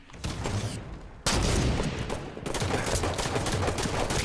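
Halo 5 match gunfire, dense rapid bursts of shots and explosive booms in several loud volleys with brief gaps between them.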